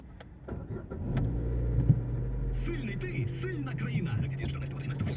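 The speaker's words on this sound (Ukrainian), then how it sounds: "машина завілась, помилок ніяких нема." A Ford Focus engine cranks and catches, settling into a low steady idle, while a voice talks quietly over it.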